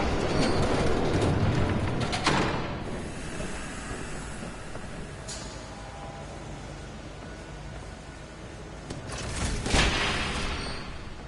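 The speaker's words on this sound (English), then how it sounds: "There's a train coming. Take cover." A train rolls past in a Batman video game, a steady broadband rumble and rush with louder swells near the start and again toward the end, with no talking.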